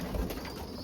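A grizzle racing pigeon coos softly near the microphone in a loft, a low burbling call in the first part of a short, quiet stretch of steady background hiss.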